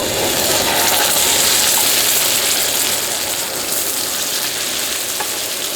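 Thick meat cooking over a campfire, a loud, dense, unbroken sizzle and crackle that holds level throughout with no voices.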